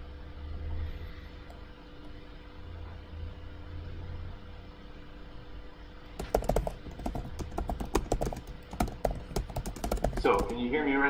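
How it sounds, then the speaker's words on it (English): Computer keyboard typing during a crypto livestream setup, at first faint under a low hum, then a brisk run of close, clattering keystrokes in the second half, with a brief voice near the end. "I will erase the message I was typing."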